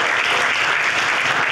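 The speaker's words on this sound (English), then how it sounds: "Clap, clap for Jesus Christ." A church congregation at a healing service bursts into dense, loud clapping, a brief, steady wash of applause with no pause.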